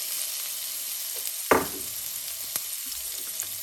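Dry green chili garlic paste dropped into hot oil already holding cumin and mustard seeds for Mumbai vada pav, a sudden loud sizzle burst settling into a steady close hiss with a few light stirring clicks, no talking.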